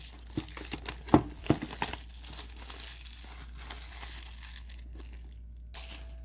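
Plastic wrapping on a Lypertek SoundFree S20 earbuds box crinkles and tears up close for a couple of seconds, then gives way to quieter rustling and handling.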